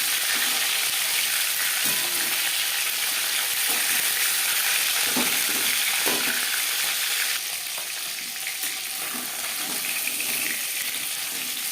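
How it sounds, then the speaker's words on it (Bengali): Pieces of shol (snakehead) fish fry in oil in a pan, a loud, close, continuous sizzle with occasional bubbling pops and light clattering. "একটা সাইড ভাজা হয়ে গেলে অপর সাইডটা উল্টে দেবো।"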